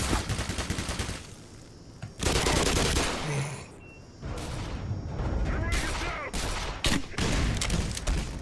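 An automated turret in the Black Mesa video game fires loud, sustained machine-gun bursts, with heavy rapid gunfire filling most of the clip, brief lulls between volleys, and a player talking over it.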